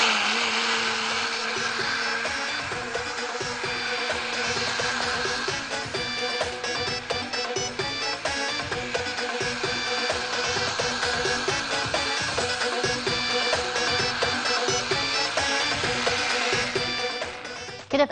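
An electric blender whirs steadily and loudly for the whole stretch, beating banana cake batter with granulated sugar, a continuous motor drone with no talking.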